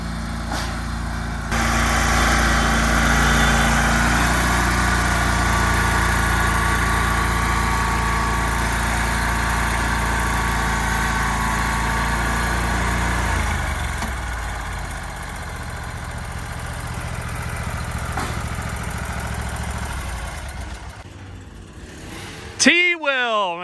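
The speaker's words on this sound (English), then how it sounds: "because the mower is kind of loud." A lawn mower engine runs loud and steady for most of the stretch, then its pitch drops as it settles to a lower drone, with speech heard over it.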